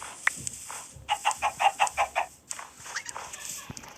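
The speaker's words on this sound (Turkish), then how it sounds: "O bu tavuklar bana yumurta veriyor ya resmen." A run of about seven rhythmic chicken clucks from Minecraft, fairly close, with other short chirps and noises before and after.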